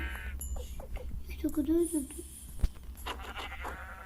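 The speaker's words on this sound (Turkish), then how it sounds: "burada bir sürü koyun var" Several sheep bleat in Minecraft, short wavering calls, some near and some farther off, with a thud partway through and faint game ambience behind.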